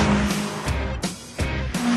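A Vauxhall VX220 charges up a hill with its engine revving hard. Sharp tire squeals rise and fall in several bursts across the short run, loud and close.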